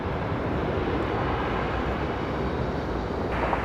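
An airliner landing on a runway at Raleigh-Durham International produces a steady, dense engine roar that holds even throughout, heard without voices.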